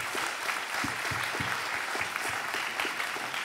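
A conference audience claps steadily and warmly, a dense patter of many hands continuing at an even level throughout.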